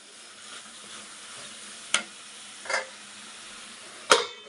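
Tomato and grated ginger sizzle steadily in a pan for an onion dish, with a few sharp clinks of a spoon stirring against the metal.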